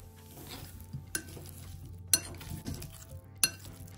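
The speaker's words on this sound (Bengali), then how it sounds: "এবার সব কিছুকে খুব ভালো করে আলুর সাথে মিশিয়ে নেব।" Potatoes being stirred into a spice masala for omelette curry, soft scraping with three sharp spoon clinks against the pot, quiet and close with no talk.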